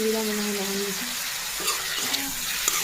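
Mushroom masala is stirred in a pan, a soft frying hiss under scraping and clinking of the spoon, with a brief tonal hum at the start and light knocks toward the end.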